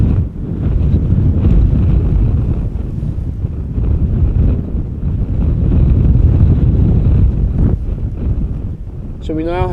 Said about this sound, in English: So we now have a 19 knot crosswind.